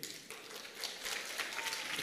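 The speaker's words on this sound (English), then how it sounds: "Yes, you can clap for that." An audience at an Education Week opening ceremony in the Virgin Islands breaks into applause, a soft, dense patter of many hands clapping that swells slightly and carries on steadily.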